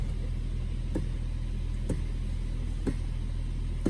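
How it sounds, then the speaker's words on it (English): A Chevy Volt idling steadily with its hood open, a constant low engine-bay hum with a few soft clicks spaced about a second apart, close and continuous with no talking. "car is running continuously because the hood is open"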